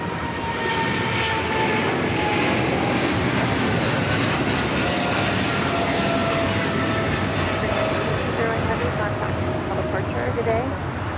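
A heavy Boeing 777 jet airliner departs LAX, its engines producing a loud, continuous broadband roar that holds steady throughout and fills the scene without pause.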